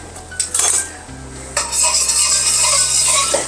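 Garlic and scallion stir-fried in a stainless steel wok, a spatula scraping and clinking against the metal in quick strokes over a loud, steady sizzle that swells after the first second and keeps going, close and bright.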